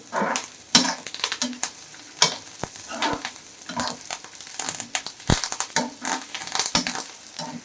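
Rice, black pepper, cumin and ajwain dry roasting together in a pan, with a steady crackle and rustle of grains as they are stirred and tossed, sharp scraping strokes and occasional knocks of the spoon, close and lively.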